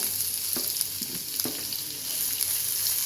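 Sliced onions frying in butter in a pan, a steady close sizzle with a few soft stirring scrapes and clatters breaking through, no talking.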